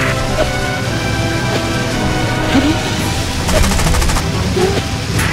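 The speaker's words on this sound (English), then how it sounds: "Taking heavy fire!" Rapid machine-gun bursts in aerial combat from the mobile game War Wings, dense and loud over a constant engine drone, with crashes and a louder volley near the end; a radio voice speaks briefly.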